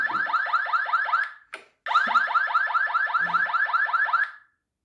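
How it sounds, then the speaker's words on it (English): A Cliq smart bike light's anti-theft alarm blares close and loud, a rapid warbling electronic siren repeating in quick bursts, briefly interrupted by a click before resuming and then stopping. "And there's the alarm."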